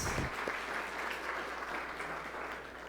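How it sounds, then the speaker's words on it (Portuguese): Congregation applauding at a church service, a steady wash of clapping heard from a distance and fairly faint throughout. "Dá uma salva de palmas e glorifica."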